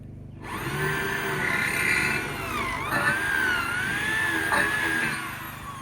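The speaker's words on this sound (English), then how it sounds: "So I drill in, and then I come from this side, drill it, holes will line up" A power drill bores through a 12 by 6 inch timber foundation beam for an off-grid timber frame, with a steady high motor whine that sags and recovers under load as the bit cuts, close and continuous for several seconds.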